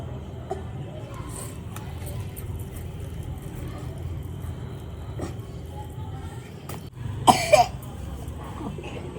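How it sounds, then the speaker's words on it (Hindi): A sick child coughs in a quiet village home, with a short burst of harsh coughing near the end over a low background hum and faint distant noises. "तो अभी खांसते खांसते ना इसको उल्टी आ गई है।"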